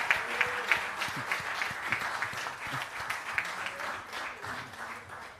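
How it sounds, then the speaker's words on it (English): At the Jamaica Diaspora Conference 2022 global launch, a large audience gives a sustained round of applause for the partners. The clapping is steady, mid-distance and fades slightly toward the end. "Can we have a resounding round of applause for our legacy partners, please?"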